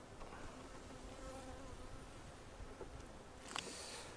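Honeybees hum in a soft, steady drone while a swarm is split into a nucleus hive, with a faint brief clatter near the end and no talk.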